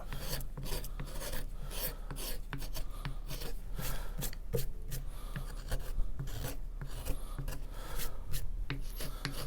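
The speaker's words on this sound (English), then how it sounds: "this is a great place for that reverse bevel knife, to get in here and cut and clean up that bottom a little bit" A reverse bevel knife cuts and cleans up the bottom of a hand-carved wooden piece, making close, steady scraping and rasping strokes against the wood in a quick, repeating rhythm.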